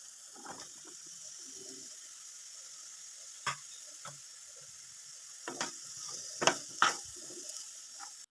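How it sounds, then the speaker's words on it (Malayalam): Mango pieces added to a half-cooked pickle mixture in a pan, faint low sizzling broken by several sharp scraping and clattering bursts of stirring, close and intermittent. "പകുതി വേവായി കഴിഞ്ഞപ്പോഴത്തേക്കും നമ്മളതിലേക്ക് മാങ്ങ ചേർത്ത് കൊടുക്കുവാണേ"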